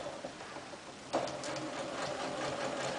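A sewing machine stitches down a fabric sample for a self-faced sleeve hem, giving a steady, continuous whirring drone close by, with a brief clack just past the one-second mark.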